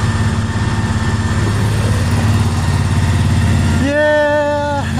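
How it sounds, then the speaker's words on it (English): A diesel V8 tractor engine idles loudly and steadily at close range, and a rising whine joins near the end. "this is Tony's tractor"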